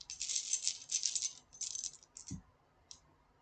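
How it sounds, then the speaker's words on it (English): Dice rattling and clicking while being searched for in a bag, bursts of bright clattering in quick clusters, then a soft thud and one last short rattle, close and alone. "I just got to get my dice out."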